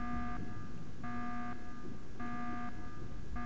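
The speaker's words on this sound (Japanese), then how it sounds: "アラームが怖い" In the underwater video game Samudra, an alarm buzzes in a slow repeating on-off pattern, with four pulses over a few seconds. It sits over a constant rumbling ambient bed, and nobody speaks.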